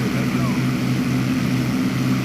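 Propeller fighter planes flying in the P40 Warhawk video game make a continuous loud, even engine drone throughout, with no change in level, and a voice talks over it.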